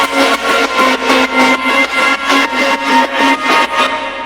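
Loud, bright instrumental track with its lows cut and reverb added, pulsing in a steady, even rhythm of sharp hits over sustained tones.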